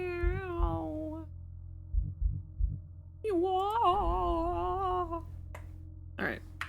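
A cat gives two drawn-out, wavering meows close by, the first around a second long and the second longer and rising, over a low steady background hum.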